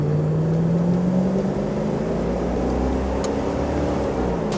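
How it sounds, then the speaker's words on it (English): A Range Rover Vogue with an old Buick V8 accelerating out of an intersection, a steady low engine drone that rises gently in pitch with a little throttle, heard from inside at moderate level without talk. "We'll give it a little bit of gas coming out of this intersection, and we can have a listen to it."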